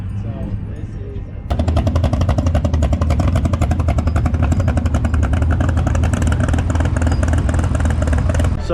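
A Fiat with a 383 engine and a wheelie bar idles and then erupts into a loud, choppy, rapid-fire engine rumble that carries on close by for several seconds.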